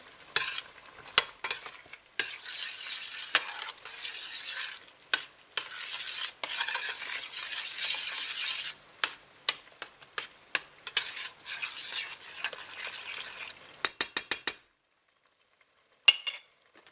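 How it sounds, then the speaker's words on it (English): Minced meat with pepper being stirred in a pan for macaroni, close and loud with a spoon scraping and clinking against the pan over a bright sizzle, ending in brief silence. "Stir everything in."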